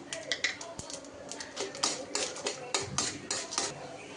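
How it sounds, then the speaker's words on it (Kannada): Dry chana dal tipped into a pan of peanuts frying in oil, giving close, scattered clicks and rattles with irregular crackling throughout. "ಇವಾಗ ನಾನು ಕಡಲೆಬೇಳೆ ಹಾಕ್ಕೊತಾ ಇದ್ದೀನಿ"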